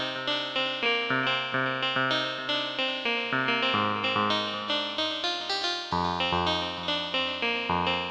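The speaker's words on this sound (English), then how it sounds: "Then you have echo voices, as the name implies, they play an echoed version of the sound." A toy keyboard on an echo-voice setting plays a bright, synthetic melody, each note followed by repeating echoed decays in a steady pulsing rhythm.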